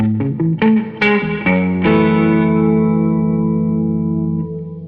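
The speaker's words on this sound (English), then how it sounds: "This is just 2 different reverbs that they ran instead of a delay, and it's a really, really great sounding reverb." A few plucked notes and a chord run through a GFI System Solis Ventus pedal set to two reverbs in place of a delay. The chord blooms into a long, smooth, shimmering tail that slowly fades, with no talking.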